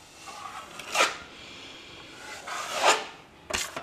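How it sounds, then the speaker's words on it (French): Joint compound being spread with a trowel or knife into a wall corner over drywall tape, giving a few rasping scrapes close by, with pauses between strokes and no talking. "Donc là dans l'angle, c'était justement là où il y avait la bande. Donc je mets l'enduit."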